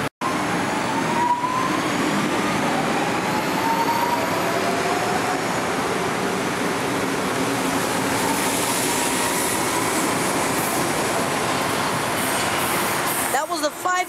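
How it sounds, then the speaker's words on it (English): Train passing close by a station at sunset, a continuous loud rumble of rolling wheels and rail noise with faint squeals, heard alone and ending abruptly. "And that's the 526 train"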